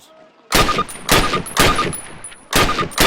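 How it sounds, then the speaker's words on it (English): Loud rifle gunfire on a training range in the Call of Duty PC game: four sharp shots at irregular intervals, each with a ringing tail. "Approach the fence and fire 6 rounds at your target."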